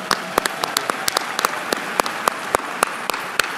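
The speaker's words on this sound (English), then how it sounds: "Can we give them a round of applause?" A round of applause from a small audience in an amphitheater after a panel discussion: sparse, distinct claps at a moderate distance, with no talking over them.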